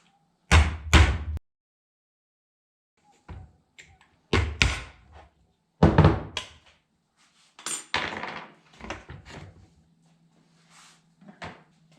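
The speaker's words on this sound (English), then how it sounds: "You just kind of tap that thing out of there, and then the fan will come off" Metal tapping on the retaining C-clip of a 2008 Shelby GT500 Mustang electric cooling fan, heard as a few sharp, close knocks and clunks spaced out with quiet gaps between them.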